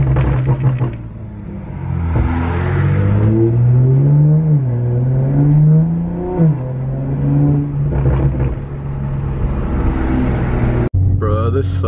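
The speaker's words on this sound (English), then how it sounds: "This thing backfires so nice for just what it is, honestly." Dodge Hellcat Redeye engine revving loudly up and down through several rising and falling sweeps, with a sharp backfire pop near the end, close and dominant.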